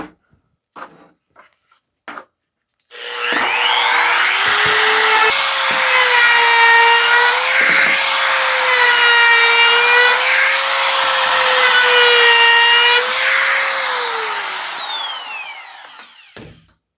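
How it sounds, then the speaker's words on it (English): A wood router roars steadily for about thirteen seconds as it runs over a wooden board for a beginner wine caddy project. Its whine rises and falls slightly with the load, after a few sharp knocks beforehand. "I'll run this router over this one."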